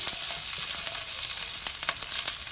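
Onion, green chilli and curry leaves sizzle with mustard seeds in hot oil for egg rice, a close, loud, continuous frying crackle with faint stirring scrapes and no speech.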